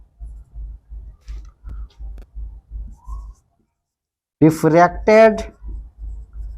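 Chalk or marker strokes on a board during a Hindi-language optics lecture give a steady run of soft, rhythmic taps and scrapes, then stop as a voice starts speaking close by.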